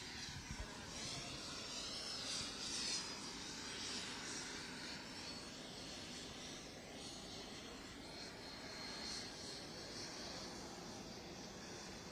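Steady roar of a landing airplane's engines, broad and continuous throughout, with a faint higher whine drifting over it; no voices.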